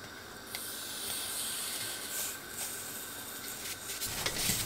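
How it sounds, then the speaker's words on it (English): Eggplants sizzle on a hot grilling pan over a flame, making a steady close hiss with faint crackles and soft scraping, no voices. "It heats right away and begin to cook the eggplants or whatever you"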